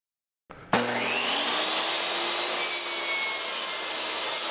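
A power saw bites into a wooden board while building a carpenter bee trap box, a sharp onset settling into a steady, loud whining cut with a sustained high rasp that runs on alone without any talk.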